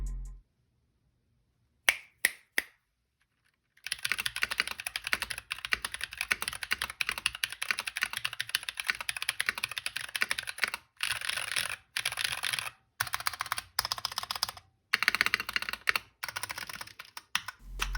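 Clacky keystrokes from a stock NK65 mechanical keyboard fitted with Glorious Panda tactile switches, typed close and fast in a continuous run with brief pauses, slightly scratchy, with no voices.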